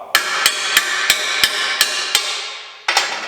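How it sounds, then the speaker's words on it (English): Hammer tapping a bolt into a half-inch hole drilled in a two-stroke dirt bike exhaust, eight sharp metallic blows in an even rhythm followed by ringing, loud and close, with no talk. "So you tap it in and you kind of massage the hole around as well."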